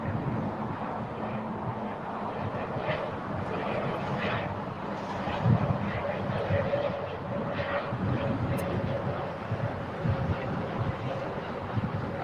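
An airplane takes off from LAX, seen from Imperial Hill: a steady, broadband roar and rumble holds for the whole stretch with no breaks, moderately loud and somewhat distant, with wind and outdoor noise mixed in.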